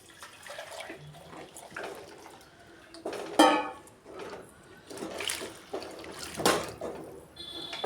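Water is poured onto rice in a pot for ghee rice, at about one and a half cups of water per cup of rice. It comes as faint, intermittent splashing pours with a couple of louder gushes.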